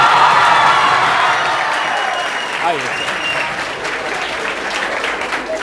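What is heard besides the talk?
children applauding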